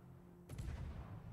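A single cannon shot fires in the Cossacks strategy game: a sudden broadband blast with a short crack that settles into a low rumbling tail, heard alone with no talk.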